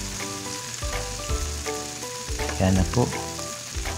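Ingredients for tinolang manok, tomato among them, sizzle and fry in a hot pan while being stirred, with scraping and clattering stirs breaking through the steady sizzle; a voice speaks briefly.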